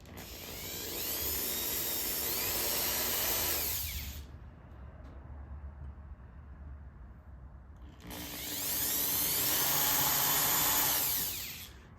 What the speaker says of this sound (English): So I'm gonna run the drill backwards.